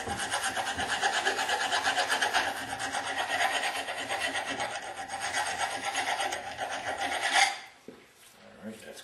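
A metal file rasps over a burr on the lift ram of a Meyer E-60 snow plow pump, with rapid, even back-and-forth strokes that are loud and close, then stop abruptly near the end.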